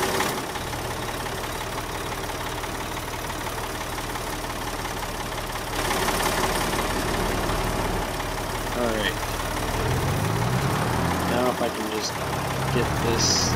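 A tractor engine warming up in the Farming Simulator 22 video game idles in a steady low drone throughout, with a voice talking over it and some shifting mechanical sounds toward the end.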